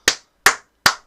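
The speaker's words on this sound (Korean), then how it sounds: "박수 한번 치야지." Three crisp, close hand claps evenly spaced about a beat apart, each sharp and isolated against silence.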